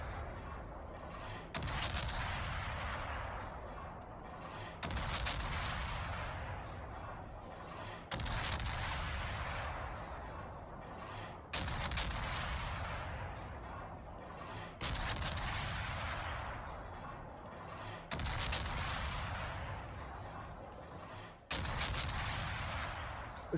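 Destroyer guns fire in a naval combat video game, each loud boom followed by a long rumbling decay. About seven shots land at roughly three-second intervals, with no talk.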